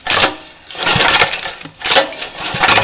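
Recoil pull starter on a small non-Honda engine, yanked three times with sharp ratcheting rasps and a brief turnover after each pull, close and loud, with no start.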